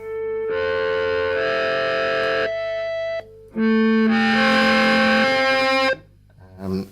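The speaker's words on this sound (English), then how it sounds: "Sounds even better with a bit of distortion." Sustained electric guitar chords with heavy distortion, two long ringing swells separated by a brief gap, loud and buzzing with a thick, gritty tone.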